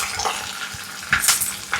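Dried red chillies, curry leaves and thinly sliced shallots fry in hot oil in a pan, giving a soft, steady sizzle with a few brief clinks of a utensil against the pan.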